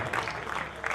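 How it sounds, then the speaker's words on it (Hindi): Applause from an audience at a large Hindi poetry gathering (kavi sammelan), a short, steady burst of clapping mixed with faint crowd murmur. "एक बार जोरदार तालियां बजाकर सम्मानित कर दीजिए"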